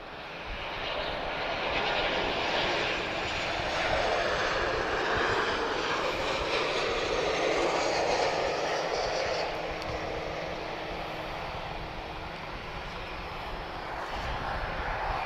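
An Air Europa airliner arriving from Madrid at Lisbon Airport, its engine roar steady and moderately distant, swelling gradually then slowly fading, heard alone with no talk.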